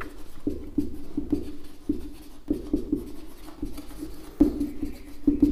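Chalk or marker scratching across a classroom board in a vector-maths lesson, a run of short strokes and taps in uneven bursts, close and fairly clear, with no talk over it.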